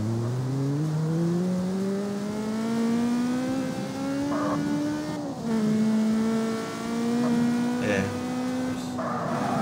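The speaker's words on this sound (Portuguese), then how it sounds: "Tentei fazer um drift ali" A car in the CarX Street racing game revs and drifts, its engine note climbing steadily then dropping and surging again, with brief tire squeal bursts; someone speaks briefly over the loud, continuous engine.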